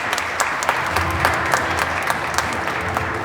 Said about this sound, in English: join me once again in a round of applause for the recipient of the award, Brad Lips.